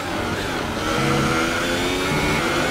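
High-pitched F1 race car engine in the video game F1 2018, a loud, continuous scream with overlapping rising and falling tones from the car and nearby rivals.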